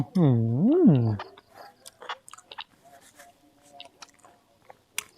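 Crunchy chewing on a Thai chopped-meat dish, a string of small crisp bites and soft smacking that starts after a sliding vocal sound at the beginning, close-miked and fairly quiet.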